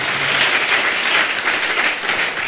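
A church congregation claps loudly in unison, a thick, continuous roar of many hands that stays close and full throughout without any voices.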